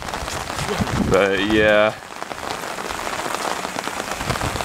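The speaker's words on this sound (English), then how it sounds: "because it's supposed to start raining even harder than this." Steady rain pours down outdoors in Sackville on a December day, a dense constant wash of drops on surfaces, with a short stretch of speech briefly over it.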